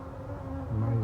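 Killer honey bees swarm over honeycomb pulled from a house, producing a dense, steady droning buzz up close, with a low hum that swells slightly louder toward the end and no voices.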